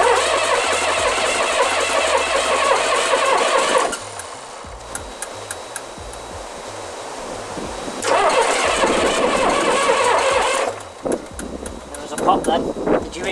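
A car engine cranking on weak batteries and failing to start, with long strained churning bursts separated by pauses, loud and close, with someone talking between attempts.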